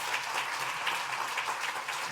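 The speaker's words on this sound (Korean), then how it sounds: "뜨거운 박수 한번 더 격려할까요?" Congregation at a Korean church Sunday service gives sustained, dense applause that carries steadily throughout, with no voices standing out.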